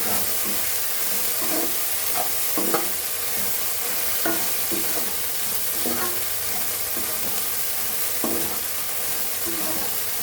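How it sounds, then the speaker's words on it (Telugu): Curry leaves frying in oil in a pan for curry leaf powder, a steady broadband sizzle with frequent stirring scrapes and clinks throughout, close and moderately loud, no voices. "కొద్దిగా నూనె వేసుకొని బాగా ఎరడాగా వేయించుకోవాలి"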